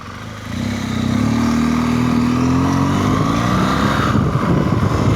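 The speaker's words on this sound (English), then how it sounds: "So I'm on the BMW GS Adventure, the Beast" BMW GS Adventure motorcycle riding through London, a steady engine drone that builds after a quiet start and holds loud and close with a rising pitch, mixed with road noise and no talking.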